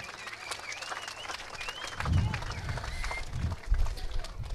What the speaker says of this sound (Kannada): ಅವರಿಗೆ ಜೋರಾದ ಚಪ್ಪಾಳೆ ಮೂಲಕ ಗೌರವ ಸಮರ್ಪಣೆ.